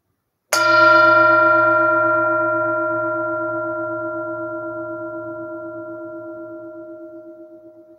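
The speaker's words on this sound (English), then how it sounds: "as you hear the bell in this present moment" A single meditation bell is struck once during a mindfulness service, ringing out clear and close, then its bright sustained tone slowly fades with a gentle wavering shimmer over several seconds.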